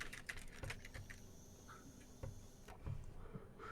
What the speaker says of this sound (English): He's typing on a keyboard.